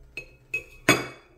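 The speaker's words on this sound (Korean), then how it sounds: "제가 한번 계란을 잘라보도록 할게요." A knife clinks against a bowl while cutting a boiled egg from an egg cooker, three sharp, bright taps, the last one loudest and ringing briefly, in a quiet room.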